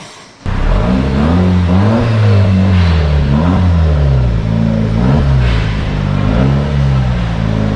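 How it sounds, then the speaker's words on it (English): A Jeep Wrangler Rubicon engine with a newly installed exhaust catches with an abrupt start, then idles loudly and close with a deep exhaust rumble, revving up and settling several times. "the exhaust has now been installed. We're waiting for the first startup, which is happening right now."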